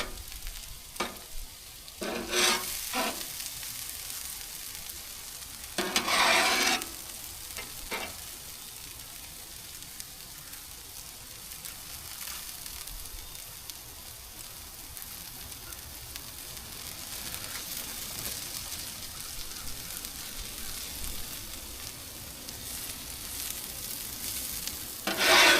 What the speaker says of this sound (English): This shouldn't take long because we cheated and we used bagged hash browns.